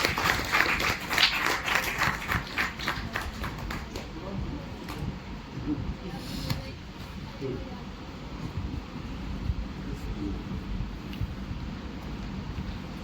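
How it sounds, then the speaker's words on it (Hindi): An audience at a World Environment Day event at a science centre applauds, with a clear burst of clapping at the start that fades into a quieter room murmur, with a voice talking over it. "जोरदार तालियां बजाएंगे ज्ञान के लिए।"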